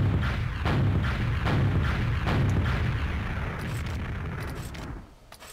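Rocket launcher firing in Team Fortress 2: a rapid series of heavy, booming blasts at a steady rhythm, about six or seven loud thuds over a continuous rumble that fades at the end.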